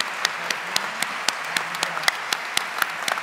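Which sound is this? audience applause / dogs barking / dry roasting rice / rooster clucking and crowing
audience applause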